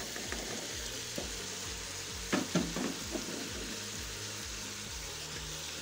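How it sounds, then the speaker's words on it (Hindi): Thinly sliced potatoes frying in a pan alongside chicken and locusts for an Afghani dish, a soft steady sizzle with a few louder clinks and stirring scrapes near the middle, no talking. "हमने पोटैटो भी काट लिए, अब वो भी हम इसके अंदर अच्छे तरीके से फ्राई करेंगे।"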